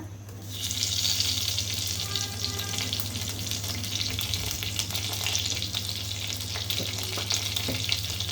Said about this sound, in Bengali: দিয়ে দিলাম দুটো তেজপাতা